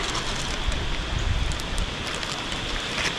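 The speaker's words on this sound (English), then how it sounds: "it's pouring rain" A dense, steady downpour hisses without letup beside a mountain stream, loud and close, with no voices.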